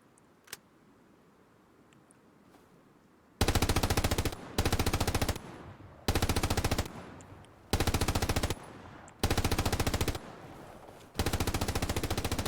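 A belt-fed machine gun, apparently in a video game, fires six long, loud rapid-fire bursts separated by short pauses, after a quiet start with one faint tick and no talk.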